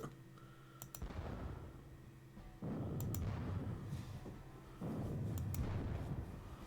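Gunfire from a Battle of Waterloo wargame: bursts of crackling musket and artillery-like volleys at moderate level, with a few sharp clicks between them and no one speaking.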